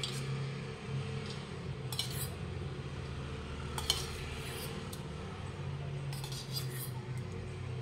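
Curd spooned into a ginger mixture and stirred, spoon clinking against a bowl in scattered light taps over a steady low background hum.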